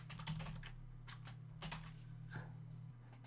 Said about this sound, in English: Let's just type my name on it.